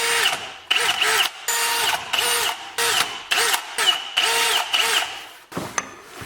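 A power drill runs in repeated short bursts close by, drilling holes in a Mazda Miata center console, its whine rising and stopping between each hole, about eight times in quick succession.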